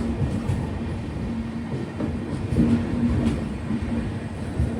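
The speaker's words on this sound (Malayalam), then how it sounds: "കോഴിക്കോടിൻ്റെ 1-ാം നമ്പർ പ്ലാറ്റ്ഫോമിലേക്കാണ് ട്രെയിൻ വരുന്നത്" The Mangala Lakshadweep Express rolls into platform 1 at Kozhikode railway station at 4 a.m., a steady loud rumble of wheels and carriages with faint rhythmic clacking running throughout.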